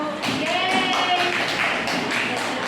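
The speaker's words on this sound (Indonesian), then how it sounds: "Tepuk tangan untuk kelompok satu." A classroom group claps for group one after its presentation, a steady patter of hands that runs the whole stretch at moderate loudness, with faint voices underneath.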